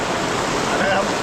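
Heavy rain pouring down all day, a dense, loud, steady roar of falling water with no breaks across the whole moment, alone and close.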